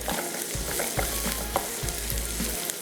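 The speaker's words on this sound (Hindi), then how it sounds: "ये गई प्याज, हल्का सॉफ्ट करना है।" Onion frying in a pan on the stove, a steady close sizzle with faint stirring clicks throughout, no voices.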